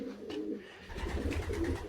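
Young pigeons on deep litter in a loft give soft, low cooing calls in a short burst, close and moderately quiet against a faint background hum.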